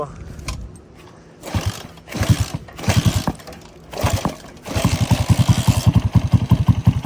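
A Delta YX 160 motorcycle engine cranks through several attempts, then catches and settles into a steady, close, pulsing idle. Voices talk faintly over the start attempts.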